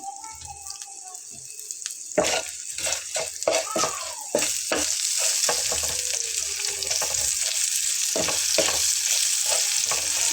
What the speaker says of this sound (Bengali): 5-7 মিনিট পেঁয়াজটা একটু ভেজে নিয়েছি